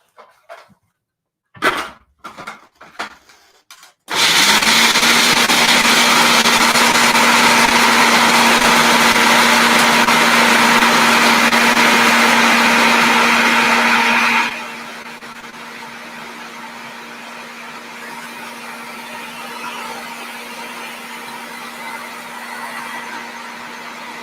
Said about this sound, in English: we want to blend these cashews up into like a kind of a